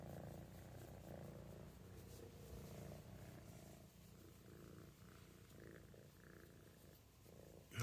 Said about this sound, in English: Yeah, a big purr from a big kitten.